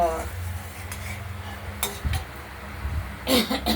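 Spice paste of cumin, ginger and chili stir-fried in a pan for rohu fish curry: a low sizzle under repeated scraping strokes of a spoon and occasional metallic clinks against the pan.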